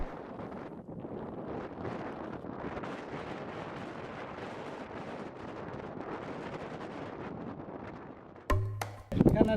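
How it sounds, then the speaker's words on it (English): Strong wind swirling through a valley in Amboseli, Kenya, a steady broadband roar buffeting the microphone throughout, ending in a few brief louder knocks and rumbles. "The wind was swirling stronger in the valley"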